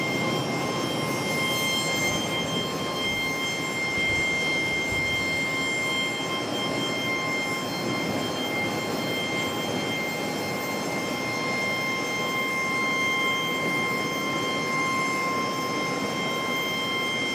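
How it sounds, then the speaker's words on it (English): Boeing 737 airliners preparing for departure at Charlotte's airport, heard as a steady, continuous jet engine roar with a broadband rumble and faint high tonal whine, holding level throughout with no talking. "737s getting ready for departure"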